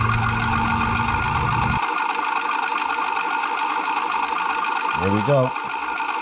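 A new electric fuel pump on a lawn mower, fed through a new fuel filter from a hose in a gallon container, runs as a steady, loud buzzing whir throughout, with brief talk over it.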